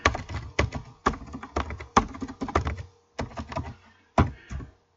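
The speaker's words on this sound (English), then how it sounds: "You can type it in the address bar if you want." Typing on a computer keyboard while navigating a blog site, close and clear clusters of keystrokes in short bursts separated by brief pauses.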